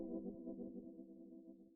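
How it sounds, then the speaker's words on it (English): A soft analog tremolo piano patch from Omnisphere plays alone, its mellow sustained chord pulsing with a steady wobble as it slowly fades. "the analog tremolo piano, which sounds like this"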